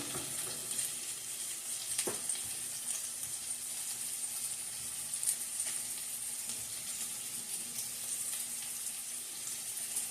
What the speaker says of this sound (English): I'm going to let it kind of brown. That way it'll sear.